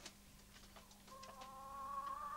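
Chickens roost high in barn rafters, giving soft, faint clucks and a rising drawn-out call that grows slightly louder toward the end over a quiet room tone.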